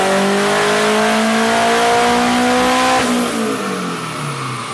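A turbocharged K24-engined Honda Civic Si on a dyno revs hard, its rising engine tone climbing loud and close before easing off near the end; no one speaks.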